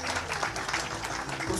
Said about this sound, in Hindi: आप लोग जोरदार तालियों से उनको